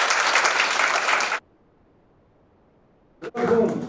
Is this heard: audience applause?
yes